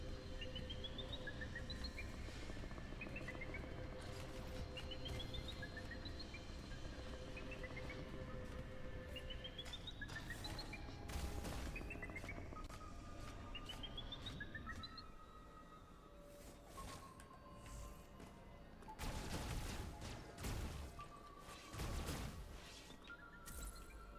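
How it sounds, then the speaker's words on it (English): Repeated chirping calls from an enemy creature in Metroid Dread, rising in short bursts over a busy game soundscape with thuds and crashes, then fading to scattered chirps. "You hear those chirps?"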